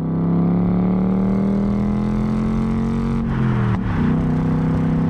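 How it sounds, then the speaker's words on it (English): A 2024 Ford Mustang GT Convertible's V8 engine revs with a loud, steady low rumble close by, then dips briefly as it shifts and settles back into a sustained deep drone, with no talking. "The lovely velvety sound of a V8."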